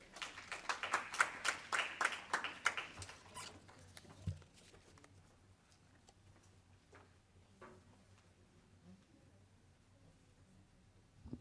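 Audience applause at an evening community event honoring a local teacher, starting as brisk, fairly close clapping for about three seconds, then quickly thinning out to scattered claps and quiet room noise.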